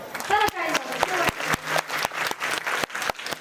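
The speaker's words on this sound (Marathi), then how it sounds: "दोन्ही बंधूंसाठी एकदा टाळी वाजवा" An audience at a kirtan devotional performance claps in brisk, sharp bursts with individual slaps standing out. A voice is heard briefly at the start before the clapping carries on.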